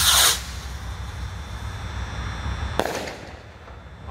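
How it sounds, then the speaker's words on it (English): A Mad Ox Sun Ring sky rocket firework (2019 version) going off: a sharp launch hiss at the start, a steady rushing flight, then a crisp crackling burst a few seconds later, heard close outdoors. "we got the second Sunring Rocket by Mad Ox"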